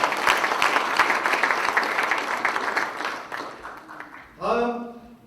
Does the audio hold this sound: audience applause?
yes